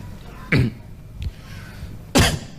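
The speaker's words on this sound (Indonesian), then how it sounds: "Nah, itu batuk." Two sharp coughs, a couple of seconds apart, with a soft thud between them in an otherwise quiet room.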